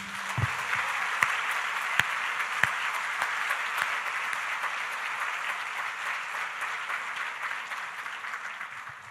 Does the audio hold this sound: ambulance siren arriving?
no